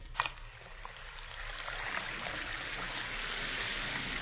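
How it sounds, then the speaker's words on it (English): Two Alka-Seltzer tablets drop into a glass of water and fizz, a steady soft hiss of sparkling bubbles after a brief plunk at the start. "You hear that fizzing, sparkling sound?"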